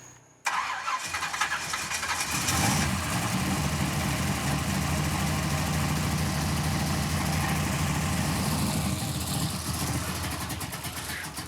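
A barn-find Pontiac Firebird V8 cranks briefly, fires, and settles into a loud, steady, rough idle close by, running continuously after the start.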